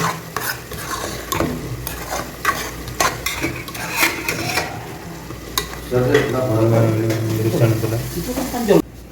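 Mutton gravy sizzles and fries in a pan while a spoon scrapes and stirs through it in quick repeated strokes, with a steadier, louder sizzle building near the end.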